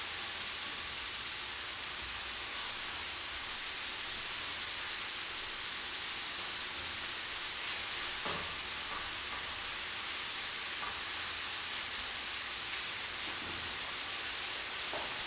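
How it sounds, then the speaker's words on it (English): Steady, dense sizzling of pork frying in a hot pan, a continuous crackly hiss with a few brief pops, close and fairly quiet. "We need to separate the meat while stir frying."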